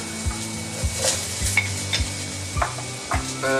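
Sliced carrots tossed into browned onions in a hot pan for a prawn chop suey, a lively sizzle broken by repeated scraping stirs and utensil knocks against the pan, close and fairly loud.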